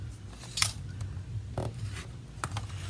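A cutter slices through paper card for a handmade sunflower accordion card, giving a few short crisp snipping scrapes separated by quiet pauses, close and faint.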